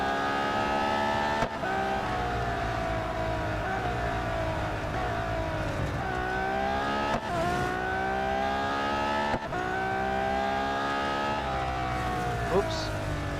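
A race car engine from the Real Racing 3 video game drones loud and high, rising through repeated gear shifts with brief dips between them, while someone talks over it.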